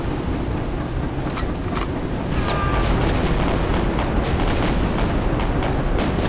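Warship cannons firing in the naval video game Victory At Sea Pacific, a dense, continuous roar of booming blasts with several sharp reports layered over heavy low rumble, loud and close throughout.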